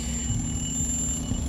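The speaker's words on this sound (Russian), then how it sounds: "Будильник тебе в ухо." Alarm clock in a bedroom in the video game Dishonored 2, ringing as a steady, continuous electronic tone with a bright high whine over a low hum, held unbroken and fairly loud.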